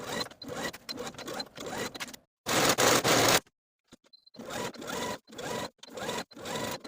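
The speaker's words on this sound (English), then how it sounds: "We're going to sew, serge, and then top stitch with this seam pressed up toward the yoke" A sewing machine and serger run in short loud bursts along a jean jacket seam, steady mechanical whirring in several runs with brief pauses between, one noisier burst standing out.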